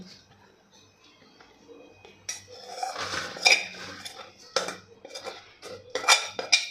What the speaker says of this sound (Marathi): आता एका मोठ्या भांड्यामध्ये आपण ही उकड काढून घेणार आहे